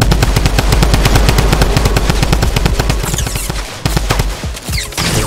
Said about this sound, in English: shooting at him, big time